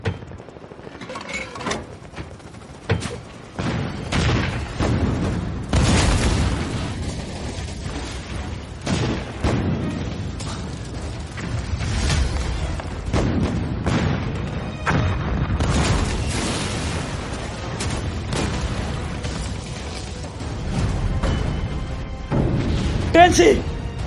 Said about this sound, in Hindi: वो लोग तोपों से हमला करने वाले हैं।